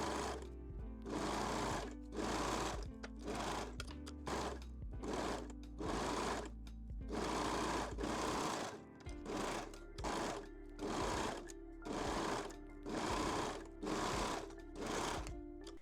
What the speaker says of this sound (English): Then we can sew them using a serger or a zigzag stitch.